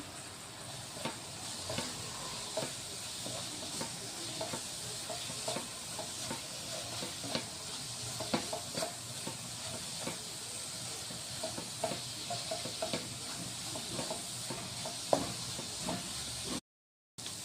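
A pan of jaggery, coconut and chiroti rava stuffing for sweet kadubu is stirred steadily, with soft scraping strokes over a continuous low sizzle, close up and without talking, cutting briefly to silence near the end.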